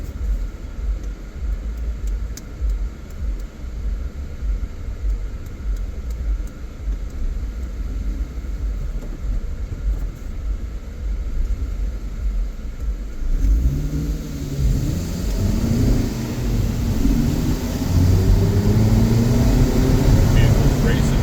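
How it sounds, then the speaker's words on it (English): Vehicles race past on the left along a road, a steady engine and tyre rumble that swells louder with rising engine tones in the second half, with a voice present. "Vehicles racing me on the left."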